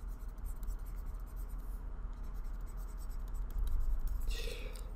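A pen or marker scratches steadily as a chemical name is written out by hand during a chemistry lesson on naming amines, with a soft continuous scraping close by and no clear speech.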